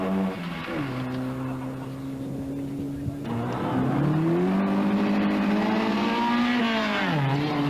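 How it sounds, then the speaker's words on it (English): A rally car engine revs hard and sustained during a 1982 Irish road rally, loud and close, pitch climbing and dropping through gear changes with a rough, roaring tone. "Seamus Carroll revving hard."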